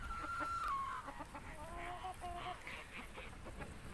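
Chickens clucking nearby while pecking at tomatoes, with a few short higher calls over a steady outdoor background.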